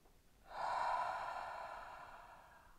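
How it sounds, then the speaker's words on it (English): One deep, slow breath drawn in during a seated yoga-style exercise, starting after a brief pause and then easing off gradually over about two seconds, close and fairly loud, with no talking. "Breathe deeply."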